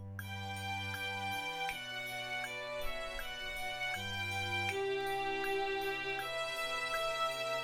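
Sustained bowed notes of a first violin part for a string ensemble, a steady melodic line moving through a handful of held pitches with clear harmonics, played alone at moderate volume with no talking.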